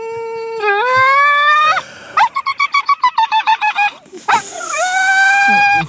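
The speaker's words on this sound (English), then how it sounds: "that dog was excited" An excited dog whining at a squirrel, with long rising high-pitched whines, a rapid string of short yelping squeaks in the middle and another drawn-out whine at the end, loud and close.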